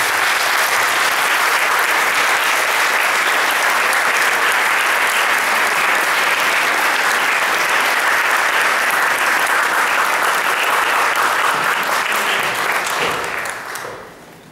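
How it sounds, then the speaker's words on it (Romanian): Loud, dense applause from an audience at a talk on priests imprisoned under communism, sustained for about thirteen seconds before fading out at the end. "Să-l aplaudăm, că e meritul."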